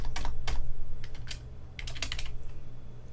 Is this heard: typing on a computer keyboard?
yes